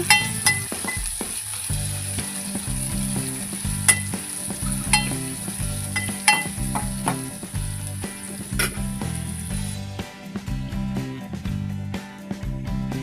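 Chopped onions sautéing in a hot pan for girmit, a loud continuous sizzle with repeated rhythmic scrapes and clatters of a spatula stirring, close and alone, with faint music in the background.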